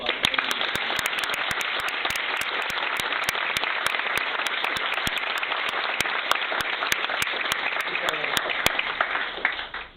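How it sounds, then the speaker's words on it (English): A gala audience gives Mr. Hooper Dunbar another round of applause, a dense, sustained wash of clapping with crisp individual claps standing out, holding steady for the full stretch before cutting off abruptly. "Dunbar another round of applause"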